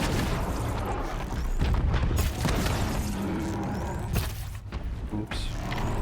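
Cannons fire in a video game, several heavy booms with rumbling tails spaced a second or two apart, loud over constant game noise.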